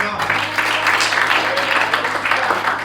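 A church congregation applauds during a service, a dense, sustained wash of clapping from many hands that fills the room evenly, with voices mixed in beneath it.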